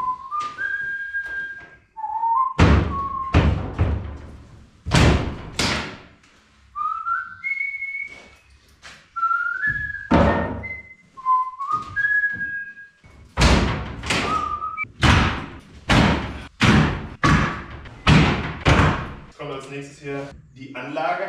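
Someone dismantles a wardrobe cabinet with many doors, loading the parts onto a trailer, and there are repeated loud thuds and knocks of panels. Someone whistles a tune between and over the knocks.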